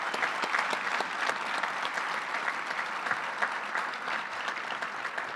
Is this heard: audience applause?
yes